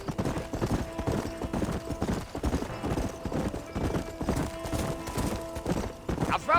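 A horse galloping in the Red Dead Redemption video game, rapid rhythmic hoofbeats pounding steadily throughout, close and loud, with a brief whinny near the end.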